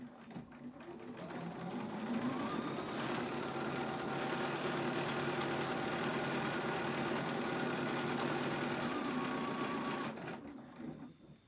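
A sewing machine using a standard foot stitches a casing on a scrub cap, running in one continuous fast whirring hum for about eight seconds after speeding up, then slowing and stopping, close by.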